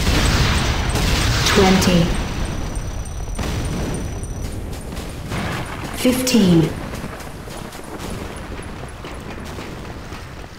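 Enemy structures blow up in the video game C&C Renegade, with heavy booming blasts and crackling bursts rolling through the scene while an announcer's voice counts down over the din.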